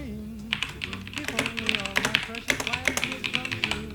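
Keys clatter in quick irregular bursts on a computer keyboard, close and moderately quiet, with brief pauses between runs of typing.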